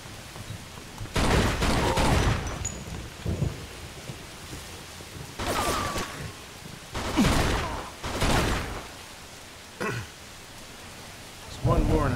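Gunfire from a Mafia 2 shootout comes as repeated heavy, booming bursts, some long and rolling, others short cracks, spread across the stretch over a steady noisy background, with a voice speaking at moments.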